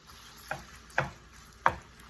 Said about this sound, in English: now we're gonna add the 7 pieces of bacon. We're gonna get those simmered up